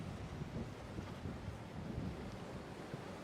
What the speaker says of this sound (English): you can see the wind kind of kicking up on our gear here